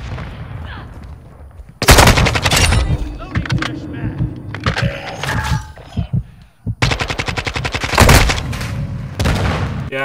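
Call of Duty Modern Warfare 2 (2022) multiplayer: loud bursts of rapid automatic gunfire and sharp booms, separated by short pauses, with a player talking in the gaps.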